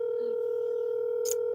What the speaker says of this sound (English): Calling a 1-800 number.